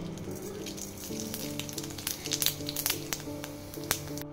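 Bay leaves and dried red chillies tempering in hot oil, a close steady sizzle with scattered sharp crackles and pops.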